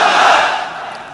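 A large crowd at an Islamic religious gathering shouts together in one loud, sustained burst that fades out over a second.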